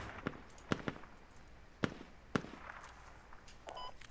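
Sharp distant blasts in the military shooter Squad, a few scattered bangs over a low steady background hum, one small burst rising above the others, with no voices.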